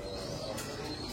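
Pigeons kept in a loft coo softly and steadily over a short stretch, a low continuous burble with faint chirps, fairly close.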